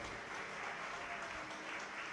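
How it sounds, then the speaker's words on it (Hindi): Steady, dense clapping from an audience at a Hindu religious discourse, a Shiv Mahapuran katha, sustained and even throughout without any pauses or talk. "एक बार आपके लिए भी जोरदार ताली बजाकर साधुवाद"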